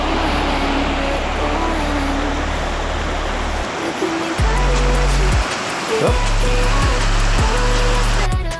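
The mountain stream Klubinský potok rushes as a steady broadband wash of flowing water, close and loud, with some tonal background music layered over it.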